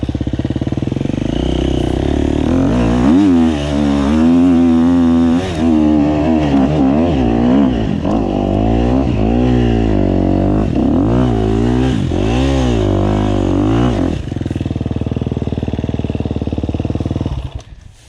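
A dirt bike engine roars close by in a forest, revving up and down in repeated bursts as it rides over a log, before cutting out abruptly at the end.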